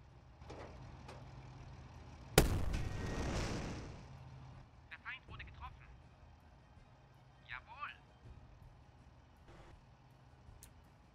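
A single loud gunshot or cannon blast with a rumbling decay from a WW2 strategy game, followed by quieter mechanical clanks and short game sound effects at a distance, over a low background hum.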